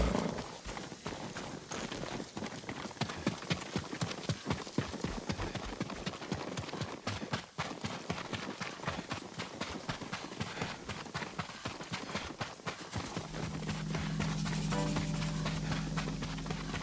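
Horses' hooves clip-clop in a steady, dense rhythm while riding in the video game Ghost of Tsushima, continuous and fairly close, with a low rumbling tone swelling in near the end.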